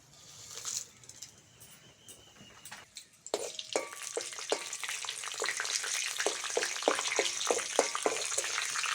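Dry red chillies, bay leaf and panch phoron hit hot oil in a kadai for vegetable oats khichdi, starting with soft hiss and building into steady close sizzling scattered with sharp crackles and pops.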